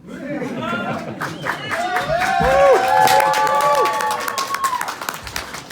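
Audience at a stand-up comedy show clapping and cheering, a steady wash of crowd noise with scattered claps, while a voice carries over the top throughout.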